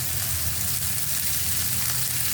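Chopped onion dropped into hot oil with fried green chillies and a pinch of asafoetida gives a loud, dense, continuous sizzle that stays steady and close throughout, with no voices.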